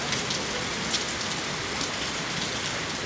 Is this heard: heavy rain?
yes